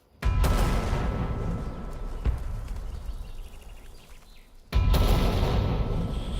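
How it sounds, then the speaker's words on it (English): Off-map artillery fire in the World War II Pacific strategy game Valor & Victory: two heavy, sudden booming barrages, each sustained with rumbling explosions, separated by a dying-off lull. "Off-map artillery."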